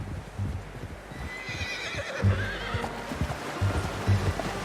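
A horse in the video game Red Dead Redemption 2 whinnies loudly and shakes its breath, with hooves clip-clopping and a steady ambient wash in the background, no talking.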